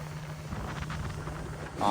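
A small boat engine runs off the Shell Key shore in Florida. The low, steady drone holds at moderate volume, mixed with wind buffeting the microphone.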